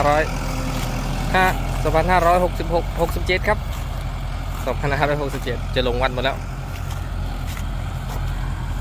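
A steady tractor engine drones throughout while someone talks over it, the motor rumbling low and constant beneath his voice, during rice-field plowing with 40 hp and 50 hp Kubota tractors.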